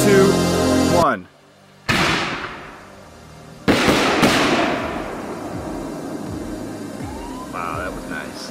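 Consumer fireworks canister shells, Demon, Kingslayer and Excalibur types, fire and burst as loud sharp booms with long crackling, rumbling decay, one after another.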